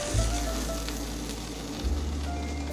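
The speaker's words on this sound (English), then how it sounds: "Now that the water has come to a boil" Water bubbles and hisses steadily in a pot on the stove, with a low hum underneath and no talking.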